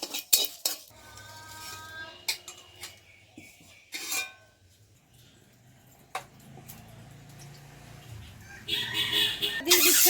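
Bay leaves and cumin seeds dry-frying in a pan, with close metallic scrapes and clinks of a spoon stirring against the pan, intermittent and fairly quiet, with a soft background rustle and a brief louder burst near the end.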